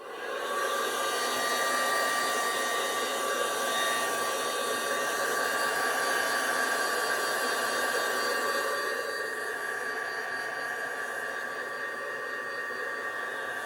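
A hair dryer blows steadily over a freshly inked autumn craft tag, a loud continuous whooshing roar with a faint whine that holds for the whole stretch, with no voices.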